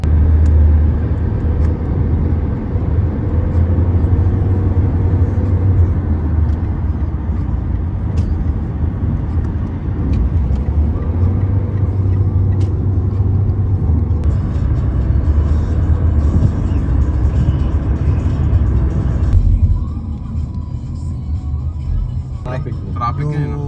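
Heavy road traffic of cars and buses rumbles steadily from inside a vehicle, with engine drone and passing hiss throughout and people chatting over it.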